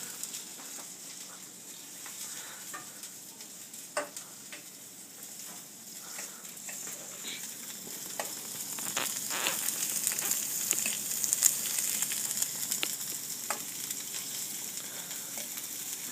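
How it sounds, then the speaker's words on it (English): Reheated food sizzles and fries in a pan while a fork pushes it around, steady close crackle building louder through the second half, with small scraping taps from the fork. "we're just going to use a fork to move this around in the pan"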